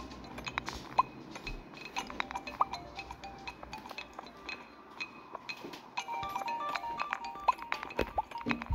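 Ore being collected in a mine in the mobile version of Stardew Valley, a run of small bright clinks and pickups scattered over quiet game ambience, faint and without talking.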